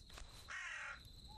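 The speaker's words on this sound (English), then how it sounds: "Oh, it's a crow." A crow caws in the We Harvest Shadows game, one harsh, fairly loud call standing out over a steady ambient drone, with a faint tone near the end.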